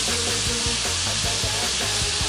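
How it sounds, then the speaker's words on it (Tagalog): A sauce with ginger and onion boils in a pan, giving a steady close bubbling sizzle with a constant hiss and a low hum underneath. "Yan po at kumukulo na"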